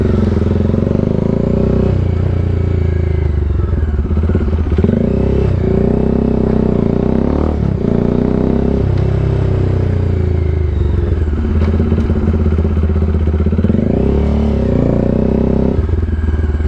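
A Bajaj Dominar 400 motorcycle fitted with an SC Project exhaust is ridden on the road. Its engine drones loudly and continuously and swells as the rider revs, with some clatter and wind noise throughout.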